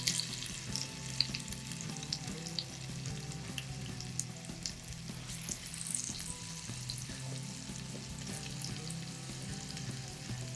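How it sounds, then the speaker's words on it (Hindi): Diced potatoes frying in hot oil for aloo palak give a steady, dense sizzle that crackles continuously throughout at moderate loudness, with no voices. "ये जो आलू है ये मैं डाल के इसमें फ्राई करूंगी।"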